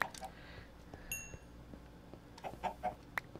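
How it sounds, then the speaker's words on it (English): Chickens in Minecraft give a few scattered short clucks, quiet and spread out over a low background with a brief metallic clink, and no speech. "Oh, there's a bunch of chickens."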